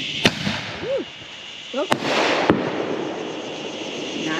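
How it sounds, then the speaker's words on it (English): Fourth of July fireworks going off at a family celebration: sharp booming bursts and crackles at irregular intervals, with a rising whistle in between, and a person briefly exclaims. "I think that is it for our fireworks tonight."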